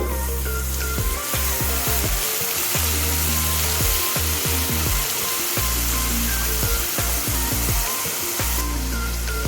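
Water poured into a hot pan of fried onion, ginger, garlic and green chili sets off a loud, steady rushing hiss that fills the whole stretch, with intermittent clatter and background music underneath.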